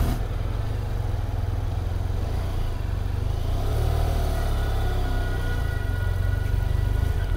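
A 2017 BMW F800 GT motorcycle engine revs on the throttle while riding, a continuous engine drone with a gentle rise under heavy wind rush, with no speech.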